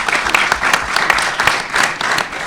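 Applause from a conference audience for Israeli medical ambassadors, a dense, lively burst of many hands clapping with uneven swells, near and loud throughout.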